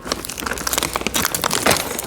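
A small plastic bag crinkles and rustles in quick, irregular crackling bursts close up, handled while sorting aluminum and brass scrap metal parts during weighing.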